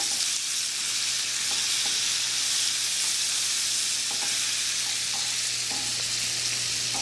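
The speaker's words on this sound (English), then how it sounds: "searing those spices right onto it" Mahi mahi searing with spices in a hot pan, a steady loud sizzle and crackle heard up close without pause and with no one speaking.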